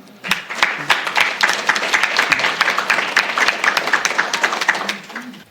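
A conference audience applauds a panel on gender equality and inclusive leadership, with a dense patter of many hands clapping steadily at moderate loudness before tapering off.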